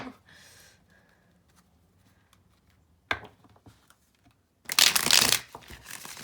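Tarot deck being shuffled during a pick-a-card reading, a quiet soft riffle early on, then a sudden loud burst of card shuffling near the end, close by with no talk.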